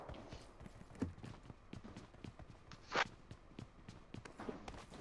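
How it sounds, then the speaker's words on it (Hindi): Footsteps in the mobile battle royale game PUBG BGMI patter in a quick irregular rhythm at moderate distance, with a couple of louder thuds standing out over faint background game ambience. "पैरों की आवाज आ रही है"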